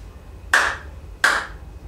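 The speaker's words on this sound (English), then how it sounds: "Clap your hands a second time." Two crisp hand claps sound about three quarters of a second apart, each close and sharp with a brief decay, set against a faint low hum in a quiet room.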